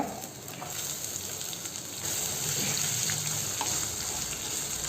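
Onions fry with garlic and dried red chillies in hot oil, a continuous close sizzle and crackle with occasional soft stirring sounds and no talk.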